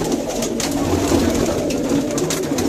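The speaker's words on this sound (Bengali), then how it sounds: "অনেক সুন্দর সুন্দর কবুতর আছে নাহিদ ভাইয়ের এখানে, দেখেন মাশাআল্লাহ।" Racing pigeons coo steadily in a dense, continuous murmur, several birds close by with soft rustling and the occasional flutter.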